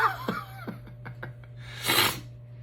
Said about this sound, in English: oh, I need to blow my nose again.